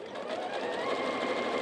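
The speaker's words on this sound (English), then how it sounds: "so do a couple stitches, back up a couple stitches, and then just come down" Sewing machine stitching a fabric grocery bag, a steady continuous mechanical whir with a rapid needle rhythm, close and even throughout, with no talking.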